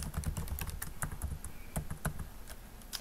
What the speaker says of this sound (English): Step 4, we're going to type in some data.